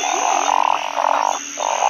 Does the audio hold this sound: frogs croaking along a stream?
yes